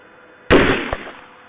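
A single sharp gunshot-like crack from a police shooting is heard, loud and close, with a short echoing tail and a second fainter pop just after, over low background noise.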